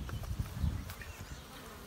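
Honeybees forage among flowers, a low, faint buzzing hum that swells and eases as insects move about close by, with no voices.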